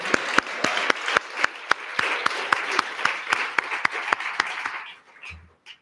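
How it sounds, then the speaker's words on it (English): An audience at a university State of the University address claps, sharp individual claps standing out over a steady wash of applause that fades out after about five seconds. "I think that deserves a round of applause"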